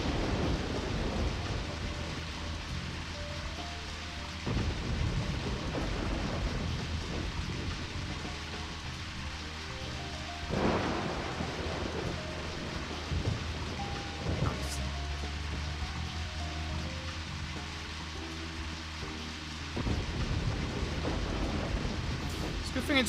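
Rain falls steadily throughout in the video game Deadly Premonition, with several low rumbling thunder swells rolling in at intervals, a continuous wet hiss under the booms.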